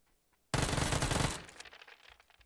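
A pump-action shotgun fires in a video game: a sudden loud blast opens a dense, continuous burst of gunfire that lasts about a second, then decays into scattered echoing crackles.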